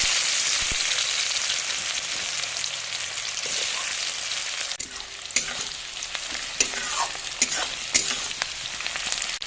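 Chopped onions go into hot mustard oil with bay leaf and whole garam masala for a chicken curry, giving a loud, steady sizzle, then stirring scrapes and clacks as the frying carries on.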